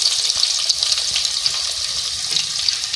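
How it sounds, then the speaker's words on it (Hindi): Onions and whole spices, including green cardamom, fry in hot oil for degi aloo gobi, a close, loud, continuous hiss and crackle with faint stirring taps and no voices. "प्याज को फ्राई कर लेंगे"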